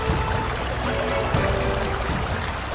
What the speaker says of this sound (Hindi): पानी की बाढ़ आता है।